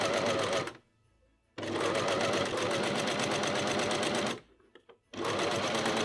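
A sewing machine stitches a seam on a Christmas dress in three loud, close bursts of fast, even stitching, broken by short pauses.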